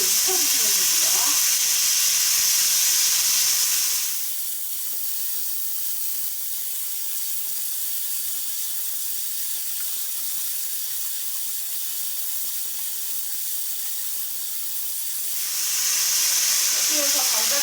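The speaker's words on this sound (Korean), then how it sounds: "여기서 물을 조금씩 넣으시면서 볶아주세요." Potatoes and bacon stir-fry in a pan as water is added, producing a loud, close hiss of steam and sizzle that fades to quieter frying in the middle and then surges back strongly near the end.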